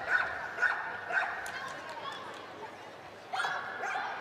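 A dog barks repeatedly during an agility run at the 2019 Agility World Championship, with several sharp barks early on and another burst near the end, heard over crowd noise and commentary.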